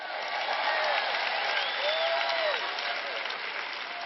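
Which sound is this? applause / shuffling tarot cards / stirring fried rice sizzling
applause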